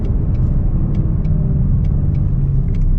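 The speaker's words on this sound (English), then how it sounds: "Gonna downshift a couple of times here." A Mustang engine rumbles loudly and steadily on an open road, heard from inside the car as it downshifts, with no talking.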